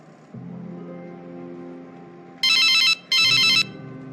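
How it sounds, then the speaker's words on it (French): A mobile phone ringtone sounds in an animated Christian drama: two short, bright electronic bursts near the end, separated by a brief gap, rising loudly above soft background music. "Mon téléphone sonne."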